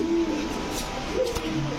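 Pigeons kept for sale, including Kokka, racer and silver breeds, give soft low cooing that runs steadily through the moment, close by, with faint background bustle.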